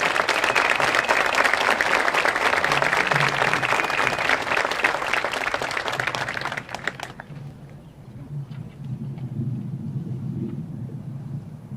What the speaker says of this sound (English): If you'd like to give those individuals a round of applause.